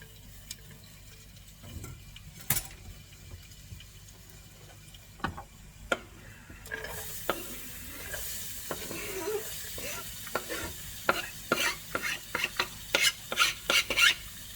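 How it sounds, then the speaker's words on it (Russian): Quiet hiss of oil that grows into a louder sizzle partway through as onion fries in a pan, with frequent clicks and scrapes of stirring. "масло зашипело. Давайте будем обжаривать лучок наш."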